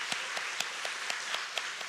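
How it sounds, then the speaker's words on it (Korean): Applause from a church congregation during a Sunday worship service, a soft, even patter of many hands with a few sharper claps standing out, heard at a moderate distance. "박수로 한번 환영하겠습니다"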